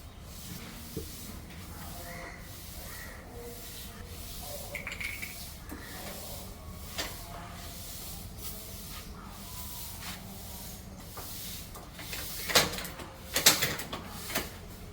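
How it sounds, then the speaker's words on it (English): WD-40 lubricant hisses from an aerosol can in sprays aimed at the moving parts of a stored motorcycle, faint and intermittent over low background noise, with a few louder bursts and clicks toward the end. "So spraying of lubrication, that is a WD-40, some moving parts has been done."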